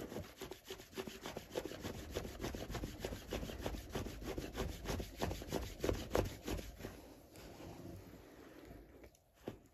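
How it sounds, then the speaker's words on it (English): Steady rhythmic rubbing of hands over an ankle during a friction massage, a close, repeated scratchy swishing with no talk. "And you just rub."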